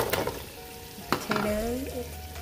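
Potatoes and carrots go into a pot of sizzling Puerto Rican beef stew, a few sharp clunks and stirring scrapes over a soft, steady frying hiss, fairly quiet with no talk.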